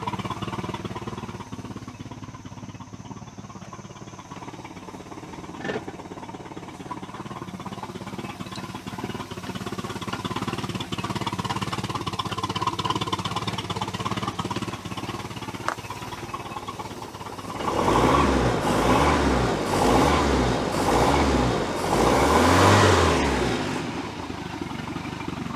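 Mercruiser 120hp engine in a 1973 Larson boat shifted into gear, a steady mid-pitched idle that grows into a louder, pulsing, rougher drone near the end, close and without talk.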